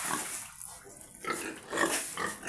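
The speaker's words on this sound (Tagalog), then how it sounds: "ito pa yung mga kasama kong baboy" Pigs on a farm grunt in short, close snorts and grunts, with faint watery background noise.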